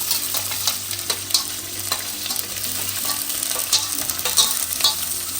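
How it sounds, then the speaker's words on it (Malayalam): Ginger sizzles and fries in a pan for a southern Kerala fish curry, with a spatula scraping and stirring steadily and close up throughout, and no voices. "അതിൻ്റെ കൂടെ കുറച്ച് ഇഞ്ചി ഇട്ടു."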